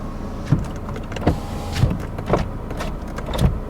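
A 15-year-old BMW 1 Series's electric window motor hums steadily close by, with a few soft knocks and clicks recurring throughout.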